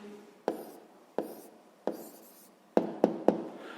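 A pen writes a math answer on paper with soft scratching strokes and a series of sharp taps, the last three coming in quick succession, close and fairly quiet.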